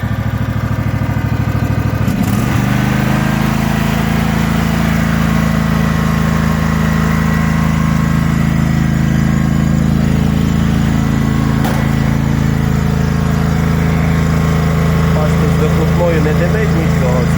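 A Husqvarna garden tractor mower's engine runs smoothly without smoke, a steady low close hum after a brief knock near the start, with someone talking over it.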